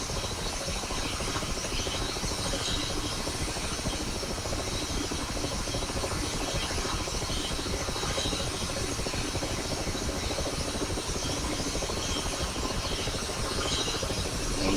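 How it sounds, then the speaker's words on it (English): Main rotor of a Mi-8MTV2 helicopter spinning up during a cold start, a steady loud whooshing drone with turbine hiss, continuous and close throughout with no talk. "the main rotor, as you can see, is already starting to turn"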